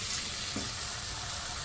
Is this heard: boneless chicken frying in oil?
yes